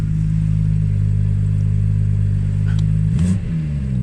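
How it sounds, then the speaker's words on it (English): A 2017 BMW M140i with a 3.0 engine and dual exhaust idles with a deep, steady low growl, then gives a short burst of rising revs near the end, heard close and loud. "really nice subtle growl and almost snarl of the dual exhaust at the back"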